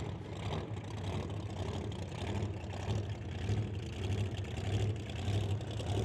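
Drag racing car from the Canada West Doorslammers class, idling and rumbling steadily as it backs up for a burnout at a race event, a low pulsing engine drone over a noisy track ambience.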